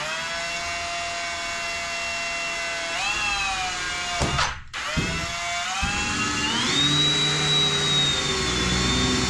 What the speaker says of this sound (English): I have this drill with this really long drill bit, so that'll easily drill through this, reach the steel